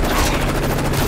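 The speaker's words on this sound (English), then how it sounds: "I was trying to shoot that rope" Rapid gunfire in Call of Duty: Modern Warfare 3, a dense, continuous burst of shots filling the whole moment at steady loudness, close and harsh with no pauses.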